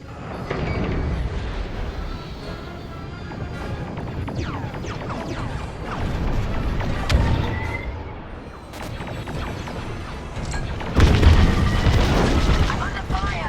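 Explosions rumble and crash as a Corvette takes fire in the space combat game Star Wars: Squadrons, heavy booming blasts layered over constant engine and laser noise, with a louder burst near the end and radio chatter throughout.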